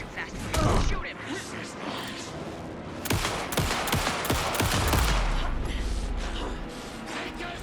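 Gunfire in Alan Wake II, a dense spread of shots and clattering mechanical noise over a constant rumble, with a rapid burst of cracks in the middle and a deep low boom near the end.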